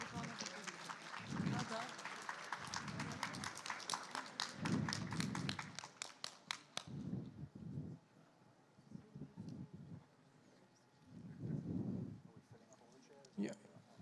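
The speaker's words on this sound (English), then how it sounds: "please, round of applause" Audience applause at a software development panel discussion as speakers are invited on stage: a few seconds of fairly quiet, dense clapping that stops abruptly, followed by low murmuring voices and shuffling.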